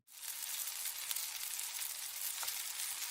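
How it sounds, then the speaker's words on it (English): Steady, dense crackling sizzle of bacon frying in a pan, continuous and fairly close, with no voices. "We cooking bacon. Hear the sizzle."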